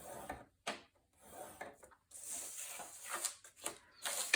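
Paper for a mini album page is scored with a faint, scratchy rubbing in short strokes broken by brief pauses, close and quiet.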